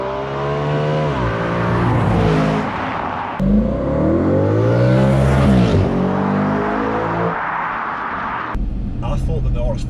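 An Audi RS5 with a V8 engine revs hard several times, each pull climbing sharply in pitch and then falling back, loud and close, with a brief pause between the bursts.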